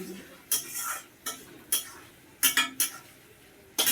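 A spatula scrapes and clatters in a pan of frying tomatoes in several sharp bursts, with a faint sizzle underneath between strokes.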